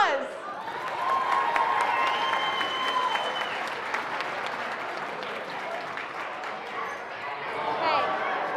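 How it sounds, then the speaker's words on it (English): At an awards ceremony for school competition winners, an audience applauds, a sustained clatter of many hands clapping with some cheering, steady and fairly loud for several seconds. "Let's give another round of applause."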